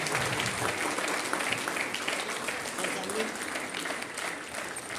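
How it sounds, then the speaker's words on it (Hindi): Audience applause at a Rotary Club event, a dense steady roar of many hands clapping that stays loud throughout, with no talking over it. "मैं सभी से अनुरोध करूंगा कि खड़े होकर और तालियों के साथ इस परिवार का अभिनंदन करें"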